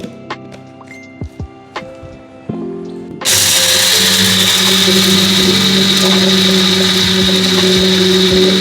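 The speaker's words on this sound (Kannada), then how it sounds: "ಇಲ್ಲಿದೆ ನೋಡಿ, ಚಿಕ್ಕ ಮಿಕ್ಸಿ ಇದು." A few clicks and taps, then a small mixer grinder starts up with a loud, steady whirring grind of roasted gram that runs to the end.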